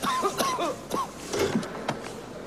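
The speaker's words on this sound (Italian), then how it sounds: "Tossisci. Tossisci, tossisci." A few short coughs and throat-clearing sounds, close by, with brief pauses between them and faint background noise.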